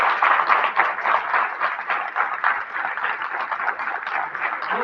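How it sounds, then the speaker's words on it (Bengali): An audience claps loudly at a film event for a movie screening, a dense, continuous patter of many hands that swells at first and then holds steady with no talking over it. "সব থেকে প্রথমে একটা খুব জোরে হাততালি হোক আপনাদের জন্য প্লিজ।"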